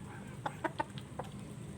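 A chicken clucks several times in short, quick bursts against a low steady background, close and fairly quiet, with no one speaking.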